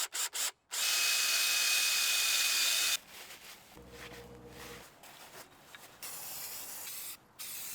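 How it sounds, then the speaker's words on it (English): A steady, loud hiss of an aerosol spray can painting car wheels runs for a couple of seconds, followed by short bursts and some handling noise. "I'm gonna just try spray painting them instead myself."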